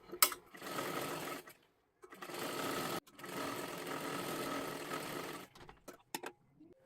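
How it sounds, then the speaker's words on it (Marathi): Sewing machine stitching a puffed sleeve seam, running in three steady bursts of rapid mechanical whirring with brief pauses between, close and fairly loud, then a few short clicks at the end. "हे पहा, अशा पद्धतीने आपण पूर्ण शिलाई मारून घेतली।"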